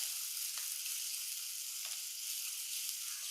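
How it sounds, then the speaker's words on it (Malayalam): Shallots, green chillies and curry leaves sautéing in oil: a dense, continuous sizzle close by with faint occasional stirring taps, no voices. "ചെറിയ ഉള്ളി, പച്ചമുളക്, കുറച്ച് കറിവേപ്പില, ഇതൊന്ന് വഴറ്റാവേ"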